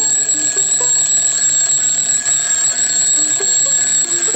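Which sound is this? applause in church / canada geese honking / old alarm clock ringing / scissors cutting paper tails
old alarm clock ringing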